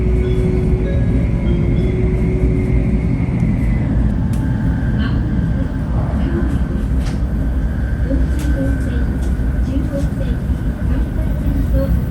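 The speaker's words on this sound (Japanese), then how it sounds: "列車は再び東海道本線と並走。" Steady rumbling noise of a Japanese train running alongside the Tokaido Main Line fills the whole stretch, a continuous rolling drone with faint rattles and a brief tonal whine partway through.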